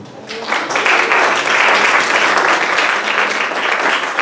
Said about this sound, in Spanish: la doctora Marisol Montes de Oca, para que pida un fuerte aplauso.